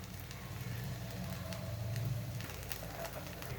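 Oil poured onto a hot tawa with rava dosa batter on it, giving a soft, steady sizzle and crackle, faint and close, running evenly throughout with no talking.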